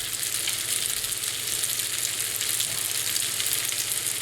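Butter and fettuccine with basil and garlic sizzle steadily in a hot pan, a continuous close frying hiss at even loudness with no talk.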